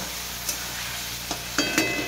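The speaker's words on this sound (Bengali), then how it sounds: "পেঁয়াজ লঙ্কা টমেটোটা একদম ভাজা ভাজা করে নেবো" Onion, chili and tomato masala fries in a pan, giving a soft, quiet sizzle broken by a few brief clinks and scrapes of stirring near the end.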